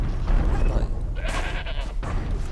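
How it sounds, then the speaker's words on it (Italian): A sheep bleats in Horizon Zero Dawn, a couple of clear wavering bleats over low background rumble and game ambience. "c'è una pecora!"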